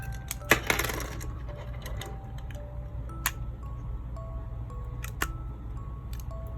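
A Samsung Galaxy Buds+ earbuds case part pops into a clear hard plastic case, giving a sharp close click followed by a few faint plastic ticks and taps in a quiet room.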